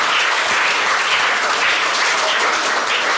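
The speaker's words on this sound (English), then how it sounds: "Let's give them a round of applause as they come up." An audience at a primary school quiz claps steadily as a team comes up, dense, even applause sustained throughout at close range.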